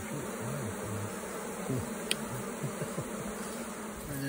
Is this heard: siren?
no